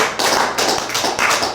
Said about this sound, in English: Can I get a round of applause for AJ Haypenny?